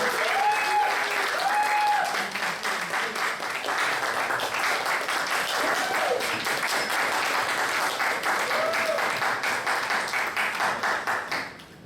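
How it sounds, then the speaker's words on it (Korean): A church congregation at a young adults' worship service applauds to welcome the pastor forward, sustained, even applause filling the room, with a voice speaking faintly beneath it. "우리 이종태 목사님 앞으로 오실 때 우리 박수로 환영하겠습니다."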